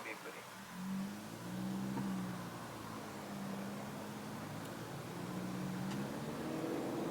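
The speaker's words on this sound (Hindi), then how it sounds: "इसके ना इंजन की आवाज़ मेरे को बड़ी प्यारी लगती है" A Honda Amaze 2025 engine idles and gently revs, a steady low hum with a slightly rough edge that rises and falls a little, heard from inside with a voice speaking over it.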